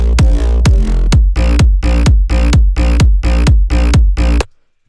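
A house drop's bouncy bass locks with a punchy kick drum in a loud, evenly spaced four-on-the-floor pattern of about ten hits, sounding alone and cutting off abruptly at the end.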